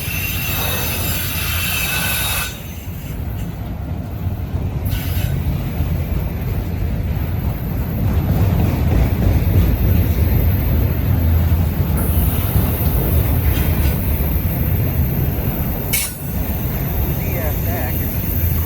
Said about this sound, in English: This is a loaded train.